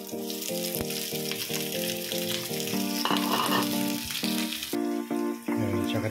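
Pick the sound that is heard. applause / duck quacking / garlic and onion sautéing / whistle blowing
garlic and onion sautéing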